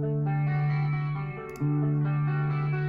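Electric guitar played through a Brainworx Suhr PT100 amp plugin with tempo-synced effects, sustained chorused and echoing tones ringing steadily with a brief dip midway, alone and clear.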